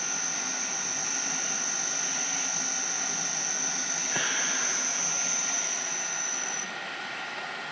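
A Centec milling machine runs steadily with its cutter spinning at about 960 RPM through a belt drive, a constant close mechanical whine and hum with a brief knock near the middle, and no one speaking.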